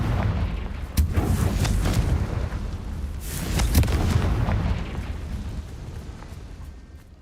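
Repeated fiery blasts of the Confringo spell in Hogwarts Legacy, a run of loud booming bursts with crackling tails, two strongest hits near the start and middle, over a dense rumbling combat background.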